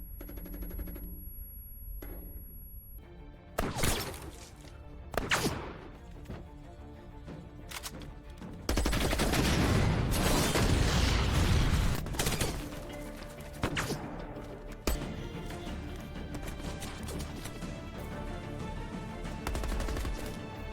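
Gunfire in a film chase scene: sharp single shots and bursts of rapid automatic fire, with a dense, loud stretch of sustained shooting in the middle, then scattered shots trailing off.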